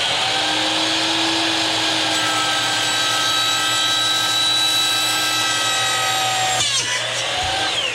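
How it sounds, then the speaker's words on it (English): A woodworking saw cuts holes with a continuous loud whine, its tone shifting slightly, then changing abruptly near the end of the cut. "some people might frown on cutting holes on a woodworking saw"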